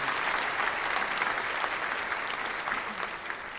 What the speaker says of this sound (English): I forgot to give myself claps, didn't I?